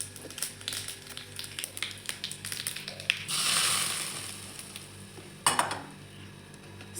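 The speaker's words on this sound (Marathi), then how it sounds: "सर्व व्यवस्थित मिक्स करून घेऊ आपण." Potato curry being stirred and mixed in a pan, with a soft continuous sizzle and scraping strokes, a louder burst of frying hiss in the middle and a sharp clatter of the utensil near the end.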